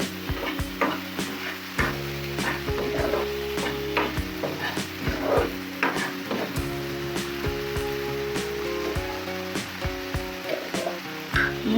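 Spices with ginger, garlic and onion being fried down in a pan for a Chittagong-style loitta fish curry: a close, crackling sizzle broken by frequent spatula scrapes and knocks against the pan, with no speech.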